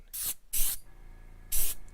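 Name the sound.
aerosol spray paint being sprayed lightly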